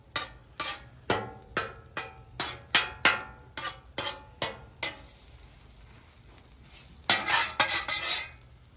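A spatula scrapes and taps on a griddle while pulling scrambled eggs together, a series of sharp metallic strokes at a steady rhythm, then a pause and a quicker cluster of scrapes over a quiet sizzle.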